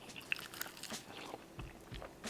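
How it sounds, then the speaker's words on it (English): Crunchy bites and chewing on an air-fried chicken wing, a few crisp crackles close up and moderately quiet, with no talking. "It actually has a really nice crunch to it."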